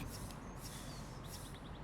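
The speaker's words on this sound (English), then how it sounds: "I do find those goddamn birds loud" Birds chirp in Bus Simulator 21, bright and fairly loud against steady low engine rumble, with short repeated tweets that come in quick rows.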